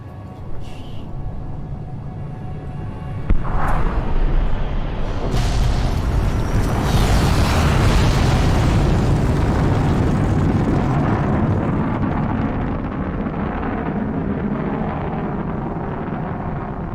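A missile explosion in Fallout: New Vegas, Lonesome Road DLC, erupts with a sharp boom followed by a long, loud rumbling roar that slowly fades, with no talk heard.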